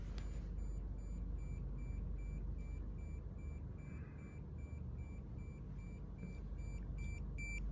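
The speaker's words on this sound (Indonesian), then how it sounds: "apabila push button ini ditekan, maka LED ini 4 buah LED ini akan menyala dan buzzer ini akan menyala juga." An electronic buzzer on a push-button LED circuit sounds as a steady, thin beeping tone over a constant background hiss, pulsing evenly through the whole stretch with no talking.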